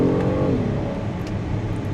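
A 2026 Acura MDX Type S Advance SUV pulling away under acceleration, a loud close engine hum with a rising tone in the first half second, then settling into a steady broad road and engine roar.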